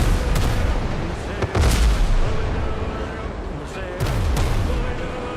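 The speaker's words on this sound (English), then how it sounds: "2 sets of cannons off each side." Ship cannons fire in the game Windrose, several heavy booms in broadside volleys spread over a few seconds, loud over a continuous rumbling background with a voice talking.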